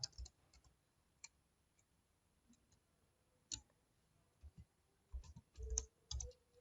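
A computer keyboard is typed on in sparse, quiet clicks and short bursts of keystrokes, close and faint, with no voices.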